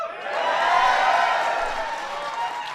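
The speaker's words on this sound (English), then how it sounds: "I knew you guys would clap on that one" An audience at a White House event honoring the Seattle Seahawks breaks into clapping and cheering, a brief dense burst that swells and then fades slightly.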